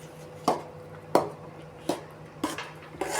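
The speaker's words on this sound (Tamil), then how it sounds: "இதை போட்டு நல்லா இந்த பதத்துக்கு எல்லாம் கிளறிடணுங்க." A spoon stirs thick kesari, a semolina sweet, in a pan on the stove, with five sharp scraping knocks against the metal at a steady, unhurried pace and nothing else in between.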